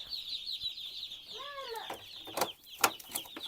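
Chickens cluck and call close by in a farmyard, short rising clucks and sharper squawks over a steady high chirping of young chicks, with a few brief knocks.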